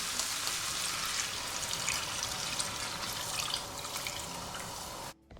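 Water, about one and a half cups, is added to a cooking pan with chicken stock, producing a continuous close splashing pour and sizzle that thins toward the end and stops abruptly.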